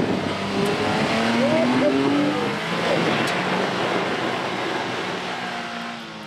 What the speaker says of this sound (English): let's go over to the snow where we can actually do a burnout